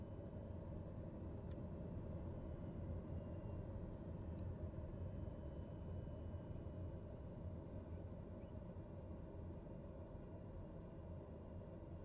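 A TBM930 turboprop taxiing at Block Island in Microsoft Flight Simulator, giving a steady low engine drone and rumble that holds evenly throughout, faint and unbroken.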